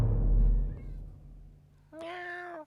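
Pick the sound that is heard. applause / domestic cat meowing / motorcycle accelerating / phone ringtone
domestic cat meowing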